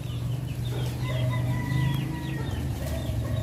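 Young hens clucking in a small backyard range in the Philippines, a close, busy mix of soft overlapping clucks and chirps with a low background hum.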